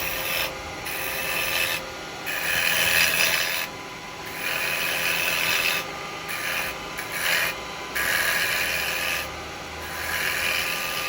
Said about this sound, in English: So I'm just going to use a spindle gouge at the moment and just take some of this away.